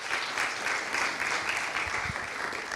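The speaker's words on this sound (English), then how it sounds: "give them a round of applause" Steady, moderately distant applause from an audience at a data project challenge presentation event, a dense, even wash of clapping that holds throughout with little else audible.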